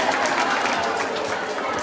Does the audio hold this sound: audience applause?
yes